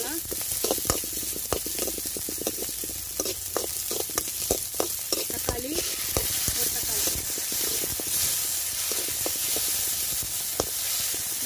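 Chopped onions fry and brown in a pan for nombu kanchi, a continuous close sizzle with scattered crackles and pops and the occasional scrape of stirring.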